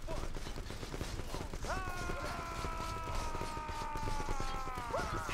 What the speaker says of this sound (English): Now we're getting shot.